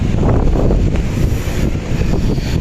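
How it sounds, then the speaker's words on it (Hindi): Strong wind blows across a rooftop in Lahore, buffeting the microphone with a loud, continuous low roar and rumble and no voices. "जिस तरह की खूबसूरत हवा चल रही है"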